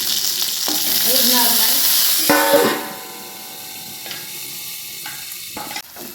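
Green chillies roast in hot oil under a covering plate. A loud sizzle swells, then drops to a quieter crackle, with metallic clatters and scrapes of the plate and pan toward the end.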